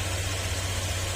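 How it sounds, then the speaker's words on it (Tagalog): A Honda Click 150 scooter engine, just refilled with coolant, idles steadily nearby, a low even rumble with a constant hum and no talking. "at maandar na yung makina."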